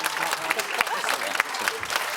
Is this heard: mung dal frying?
no